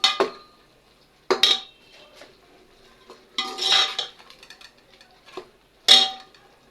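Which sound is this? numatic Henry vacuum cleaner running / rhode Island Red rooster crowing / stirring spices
stirring spices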